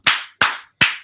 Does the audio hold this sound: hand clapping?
yes